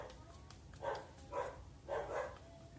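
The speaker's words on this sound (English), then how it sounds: "Oh, sorry, dog's barking." A dog barks faintly in the distance, three or four muffled woofs spaced about half a second apart over low background hum.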